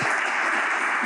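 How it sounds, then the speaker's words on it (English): A conference audience at a developer talk claps for guests joining the stage, a brief dense wash of applause that fills the whole moment at steady loudness. "Can we get a round of applause for them joining us on stage?"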